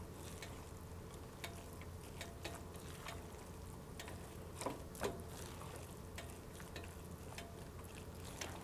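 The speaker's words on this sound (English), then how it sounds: "Give it a good stir." Food frying in a pan while being stirred, a steady soft sizzle with occasional scraping and clinks of the spoon, close and alone with no talk.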